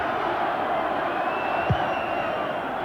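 Football stadium crowd at England v Norway, a broad steady roar of massed voices with cheering swelling at a distance, one brief low thump midway.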